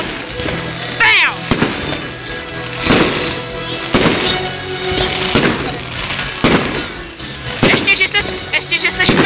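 Fireworks and firecrackers explode at a New Year celebration, with repeated loud bangs, crackles and whistling rockets, some near and some farther off. Voices can be heard between the blasts.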